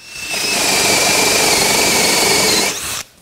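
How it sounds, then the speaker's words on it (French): A Fein ASCM18QX cordless drill runs in first gear while boring a large-diameter hole, a loud, steady whine with grinding that holds for nearly three seconds, then winds down and stops abruptly. "je vais utiliser la visseuse en première vitesse. Et en perçage."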